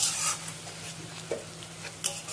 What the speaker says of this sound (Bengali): এবার এই মশলাগুলোকে হালকা করে কষিয়ে নেব